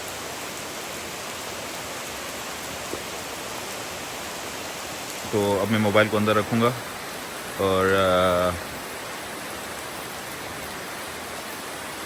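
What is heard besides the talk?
heavy rain in the jungle during a thunderstorm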